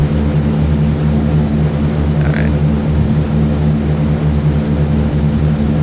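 Heavily loaded B-17 bomber in a video game during takeoff, its propeller engines droning loud and steady with a deep constant hum throughout.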